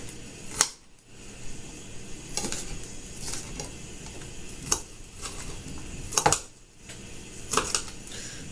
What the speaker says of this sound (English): This is how you should chop up your onions.